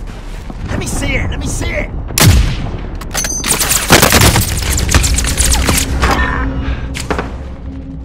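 Call of Duty: Modern Warfare firefight with loud close gunshots and bursts of automatic fire, heavy thuds and booms, dense and continuous, while a player's voice briefly cuts in.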